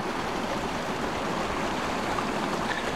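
Partially frozen brook flowing in winter woods, a steady close rush and gurgle of running water, continuous and even, with no voices.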